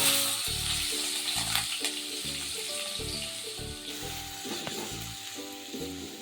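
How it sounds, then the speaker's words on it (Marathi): Onion sautés in a pan with curry leaves and asafoetida, a moderate sizzle and frying crackle running steadily, with a low intermittent tonal hum underneath. "कांदा घालून छान परतून घेते"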